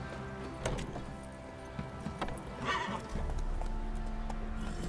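A horse in The Witcher 3 video game gallops with steady clip-clop hoofbeats and gives a whinny partway through, heard close amid game ambience.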